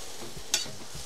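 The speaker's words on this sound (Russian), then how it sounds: "И обжариваем с лучком примерно минутки 3 тоже." Carrots and onion frying in oil in a kazan over a campfire, with two short scraping stirs of a utensil over a faint, steady sizzle.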